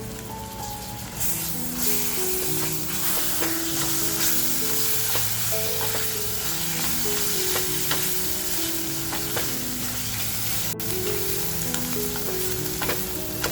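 Mutton liver masala sizzling and frying in a pan with thecha just added, steady loud crackle with stirring scrapes throughout, close and continuous.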